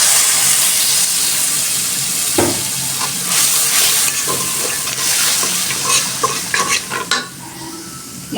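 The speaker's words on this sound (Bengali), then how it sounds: "পেঁয়াজ রসুন ভাজাতে দিয়ে দিব।" Onion and garlic frying in hot oil for a fish and cauliflower curry, a steady loud sizzle with hiss, broken by scraping stirs and clatter toward the end, with no one talking.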